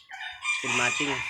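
A rooster crows once, loud and close, its harsh drawn-out call rising and then breaking into a strained finish.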